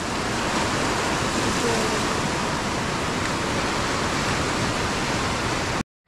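Heavy monsoon rain in the Konkan countryside, a dense, loud, continuous roar of downpour that cuts off abruptly at the end.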